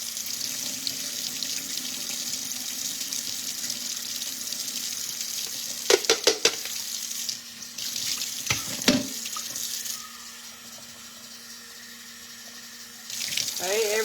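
Rice being rinsed under a running kitchen tap in a sink, a steady close hiss of flowing water with a few brief splashes and clatters as the grains are handled, the stream easing off before starting again.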